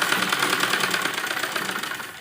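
A sewing machine stitching a net blouse for an embroidered lehenga runs in a fast, even mechanical chatter, close and continuous, easing off slightly at the end.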